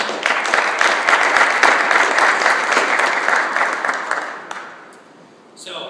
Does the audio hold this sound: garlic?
no